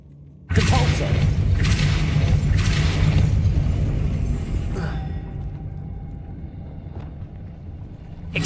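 The Depulso spell cast in Hogwarts Legacy: a sudden loud whooshing blast bursts in, rushes with rising and falling swells for a few seconds, then fades into a lower lingering rumble.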